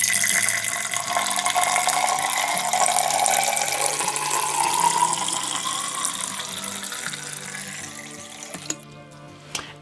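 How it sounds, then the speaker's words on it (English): Water pours steadily into the reservoir of a Gourmia tea maker, a continuous splashing stream whose pitch rises as the tank fills toward the max line, then stops with a few small plastic clicks near the end. "So let's get some water in here."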